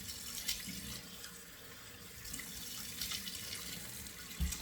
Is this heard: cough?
no